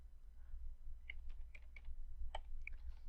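Fingers tap keys on a computer keyboard entering a number, a few faint, scattered clicks over a low steady hum, close and quiet with no talk.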